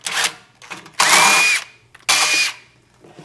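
A powered nut driver removes screws while an ignition module is replaced on a Fire Sense PRO Series unit. Two loud, close whirring bursts are heard, each about half a second long, separated by brief quiet clicks.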